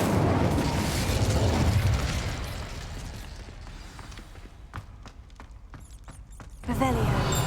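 Incendio fire spell cast in the Hogwarts Legacy video game: a loud roaring whoosh of flame that fades into a quieter bed with scattered sharp crackles and pops, then surges again.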